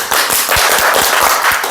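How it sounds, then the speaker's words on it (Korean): Church congregation clapping together in a fast, steady rhythm, loud and close, filling the room for nearly two seconds with dense overlapping claps. "주님께 영광의 박수"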